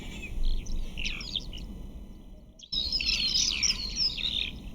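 Recorded bird calls play from a phone web app, bright chirps and tweets in short bursts, a brief pause, then a busier, louder run of chirping over a low steady background hum.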